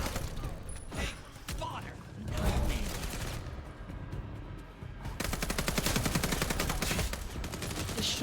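Bursts of gunfire from the vampire action game Vampire: The Masquerade Bloodlines 2, sharp shots at first, then a dense sustained volley in the second half, with game sounds and some talk mixed in.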